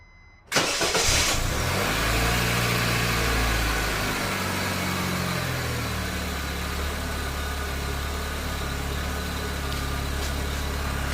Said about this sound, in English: Now let's check if the engine is, the RPM is stable now.